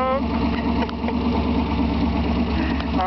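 A V8 engine rumbles behind a pickup truck at a car event, a deep, steady idle with a few revs, heard close and loud under people talking.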